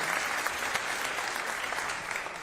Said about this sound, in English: a round of applause for the Vice President